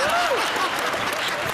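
A television game-show audience claps steadily for the contestants, a dense wash of applause that runs through the whole moment, with gliding tonal studio effects layered on top.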